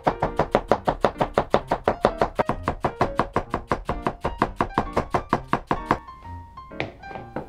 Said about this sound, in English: Then cut the inner layers of the cabbage in the same way.